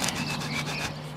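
A pump is pressed down through an old rubber welly to cut a washer, producing a close, brief creaking and rubbing grind that pulses unevenly for about a second.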